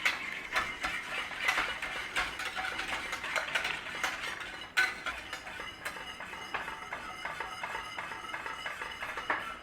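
A utensil scrapes and stirs a thickening dairy-free cheese sauce thickened with cornflour in a pan over a flame, a close, rapid run of rhythmic clicking scrapes with no talk.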